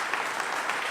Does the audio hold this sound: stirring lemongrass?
no